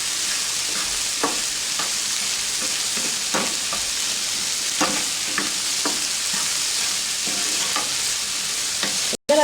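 Chicken and peppers fry in a pan with a steady, even sizzle, while a utensil stirs with scattered scraping clicks, close and alone.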